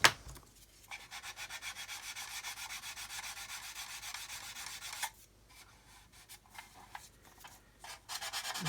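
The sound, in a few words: coarse sanding stick rubbing to blend a surface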